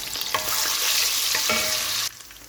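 Garlic dropped into hot oil sizzles loudly and steadily for about two seconds with a few scrapes of stirring, then the frying noise drops away abruptly.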